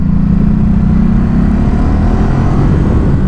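A Ducati Supersport S motorcycle accelerates in second gear, its engine a loud, close, steady low growl with a slight climb in pitch and wind rush.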